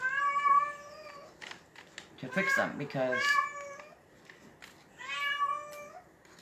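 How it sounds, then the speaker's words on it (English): Cats in heat meowing and yowling, drawn-out wavering cries repeating close by, one call overlapping another, with a person speaking briefly between them. "All my cats are in heat again."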